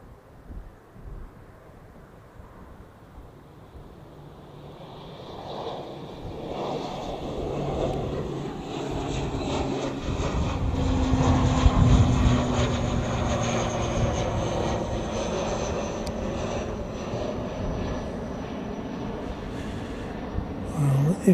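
Air New Zealand airliner on flight NZ370 passing during plane spotting, its jet engines rising from distant to a loud sustained roar, then easing slightly while staying strong.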